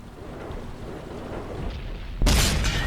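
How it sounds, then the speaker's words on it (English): A high explosive tank shell fires in the World of Tanks console game, a sudden loud booming blast near the end that follows quieter rumbling battle ambience. "a high explosive round kills that IS-3"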